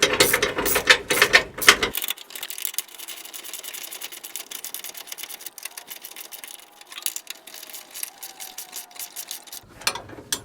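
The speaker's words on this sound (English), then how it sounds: "Let's get a couple of ratchets here. Tighten this down." Ratchets tightening a stabilizer link bolt on a GM SUV: rapid, dense clicking of the pawl in quick bursts, close to the microphone, continuing almost without pause with a few brief louder handling noises at the start and end.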